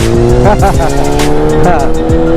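A motorcycle on a new tire launches hard with loud, close engine revving and rising, stepped gear changes, with a voice talking over the noise.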